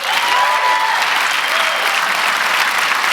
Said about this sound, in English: Huge round of applause for our speakers again today.